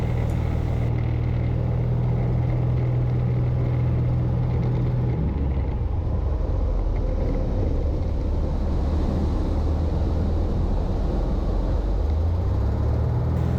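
Cockpit drone of a Cessna 170B fitted with a Sportsman STOL kit during spin practice: a loud, continuous engine rumble with a steady hum that shifts pitch partway through and climbs again near the end.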